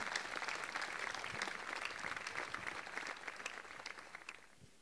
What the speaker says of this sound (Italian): Gli diamo un applauso di benvenuto al nostro sindaco.